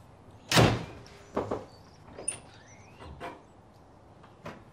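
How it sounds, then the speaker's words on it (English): Knocks on a door as someone arrives at a house, a loud first thump followed by a few softer, spaced taps over a quiet room background. "So you're gonna walk in and knock on the door?"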